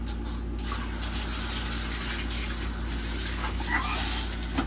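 Water runs steadily to fill the shower in an RV camper trailer, a faint continuous hiss and splash with a low hum underneath, close by and alone.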